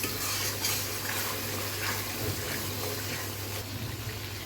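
A spice paste with sour yogurt and tomato sauce is sautéed for a home-style chicken roast, a soft continuous sizzle with light stirring scrapes over a steady low hum, close and moderate.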